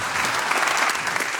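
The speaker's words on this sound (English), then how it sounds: "Can we get a round of applause" A short burst of audience applause after a health IT panel at a conference, dense and even clapping from a room of people, fairly loud and steady throughout.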